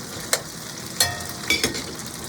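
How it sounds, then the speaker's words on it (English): Onions caramelize in a pan with a continuous soft sizzle, broken by three sharp spatula scrapes or clinks spaced about half a second apart. "The onions are getting caramelized."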